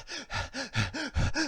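A voice imitates heavy panting after exercise, producing seven rhythmic breathy gasps in quick succession, close and fairly loud, with no words spoken.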